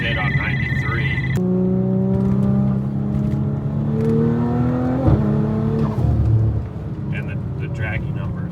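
An Audi S5 B9 with a Stage 2 E85 tune accelerates hard under throttle, engine tone climbing steadily through the gears with brief shift dips, loud and close from inside the cabin with a voice talking over it.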